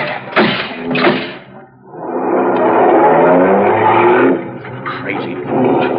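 A car in a radio drama speeds off in pursuit, engine roaring and revving loudly and close for several seconds after brief shouts, then easing slightly before surging again.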